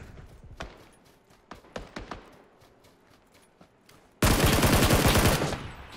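PUBG battle royale gunfire on Xbox One: scattered single shots and short bursts, then a sudden loud, sustained automatic volley filling the last two seconds up close.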